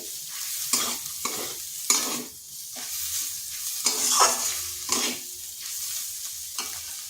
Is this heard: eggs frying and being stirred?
yes